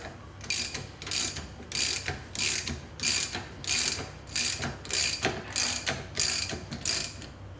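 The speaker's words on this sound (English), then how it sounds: "Then take your 10mm socket, ensure that it's on the piston rod instead of the adjuster." A 10mm socket wrench ratchets on the piston rod of an AST suspension unit, making about a dozen evenly spaced clicking bursts in a steady rhythm, loud and close with no talking.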